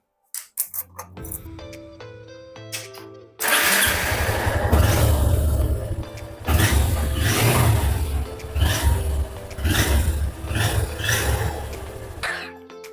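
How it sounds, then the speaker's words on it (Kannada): A motorcycle engine fires up after a few starter clicks, then idles and revs in repeated surges, loud and close, after an air filter change. "ಇವಾಗ ಇದನ್ನು ಸ್ಟಾರ್ಟ್ ಮಾಡಿ ನೋಡಿ, ಸೌಂಡ್ ಕೇಳೋಣ ಬನ್ನಿ."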